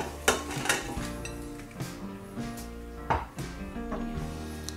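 Chopped carrots, celery, onions, parsley, leek and ginger tipped into a pot, with several sharp clatters and knocks of vegetables and utensils against metal over a quiet kitchen background.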